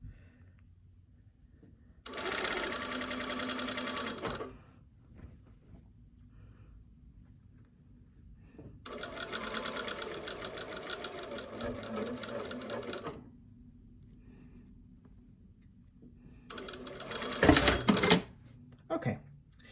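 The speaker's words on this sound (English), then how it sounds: "so I've sewed that, and then that was a 1 centimeter seam allowance" A home sewing machine stitching a seam on pants: three separate runs of fast, even mechanical whirring and clatter, each several seconds long, with quiet pauses between them and a brief thump near the end.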